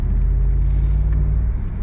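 Bentley Continental GTC V8 engine pulling hard, a loud, close, deep rumble with a steady low drone throughout and no voices over it.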